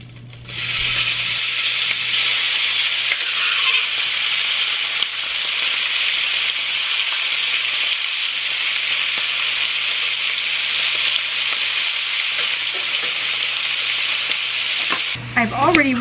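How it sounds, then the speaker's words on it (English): Meat hits hot bacon grease and erupts into a loud, dense, continuous sizzle that holds steady up close for about fifteen seconds before cutting off abruptly. "As soon as the bacon grease is nice and hot, then I'm going to throw in the meat"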